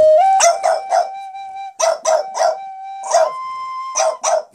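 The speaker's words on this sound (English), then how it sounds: "You know what, he's just barking now." A dog barks in short, loud bursts and clusters of yips at close range over a steady sustained flute note.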